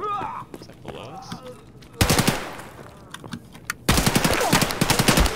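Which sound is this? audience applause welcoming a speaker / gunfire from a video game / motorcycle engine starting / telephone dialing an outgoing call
gunfire from a video game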